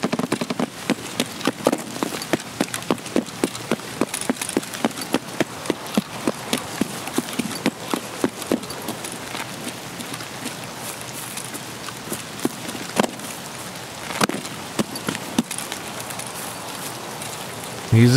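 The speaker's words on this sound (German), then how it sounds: "Ich hoffe, der Regen wird halt bloß weniger und nicht mehr." Rain in the video game Escape From Tarkov, a constant hiss of rainfall with a steady run of footsteps crunching through it for most of the stretch, no talk.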